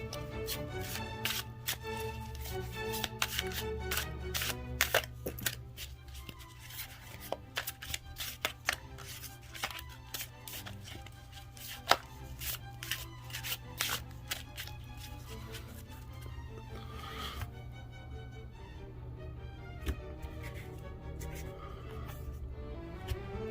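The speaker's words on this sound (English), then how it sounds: "I'm going to shuffle until I feel like I'm done" Steady, soft riffling and tapping of tarot cards being shuffled over and over, close up, with a low hum underneath.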